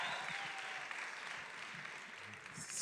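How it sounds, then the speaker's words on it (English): A pageant audience claps steadily throughout, a broad wash of applause at moderate distance with no clear voices above it. "come on, cheer for me to go"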